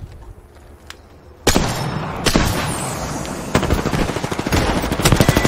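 Video game gunfire, starting with a lone shot, then heavy bursts and steady rapid automatic fire that builds louder toward the end, close and dominant with no talk.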